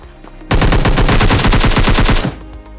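Video game gunfire in PUBG Mobile Lite, a loud, rapid automatic burst of evenly spaced shots lasting nearly two seconds, close and with no talking over it.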